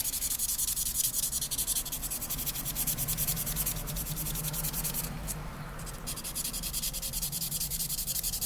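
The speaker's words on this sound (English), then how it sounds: "when I'm sanding, I start on one end of the knife and hit everything on that end" Abrasive paper rubs steadily back and forth against a knife, a close, continuous gritty scratching with a brief pause partway through.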